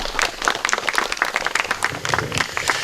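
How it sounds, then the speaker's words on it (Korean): A forum audience applauds to welcome a speaker to the stage: dense, steady clapping from many hands in an indoor hall, lasting several seconds at an even level. "여러분 박수로 맞으시면 고맙겠습니다"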